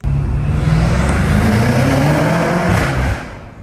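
BMW M5 Competition F90 with new intakes, heard from inside the cabin under acceleration: a loud, steady engine drone with rising harmonics and a faint turbo whistle, easing off abruptly near the end.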